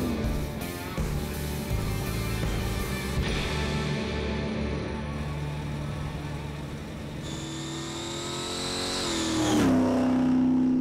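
A Holden panel van accelerating hard with wheelspin, its engine note climbing steadily through first and into second, then a tyre squeal rising near the end; loud and close with no talking.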